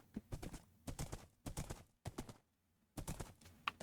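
Minecraft horses clip-clopping in a stable, several bursts of dry hoof clatter separated by short silences, close and fairly loud.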